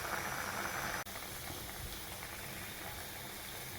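Lentils for mango and drumstick sambar bubble at a full boil in a pot, a soft continuous hiss with faint simmering texture that breaks off briefly once before carrying on quietly.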